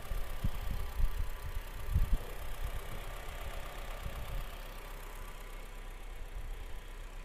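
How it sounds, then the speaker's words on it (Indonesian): The engine of a low-priced used three-row car idles with a soft, steady low rumble, smooth and even, with a couple of small throbbing bumps near the start and no voices. "Dan suara mesinnya pun sangat-sangat halus."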